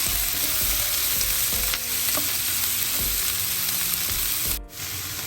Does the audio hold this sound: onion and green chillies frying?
yes